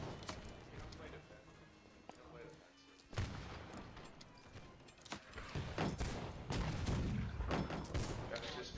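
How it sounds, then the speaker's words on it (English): Musket volleys in the Holdfast: Nations At War game, scattered sharp cracks and booms, some near and some distant, with a louder stretch of firing in the second half while players shout in the background. "Keep on firing."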